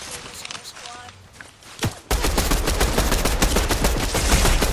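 Gunfire in the Fortnite video game, a sudden loud burst of rapid shots that starts partway through and continues steadily to the end, after a quieter stretch with faint game sounds.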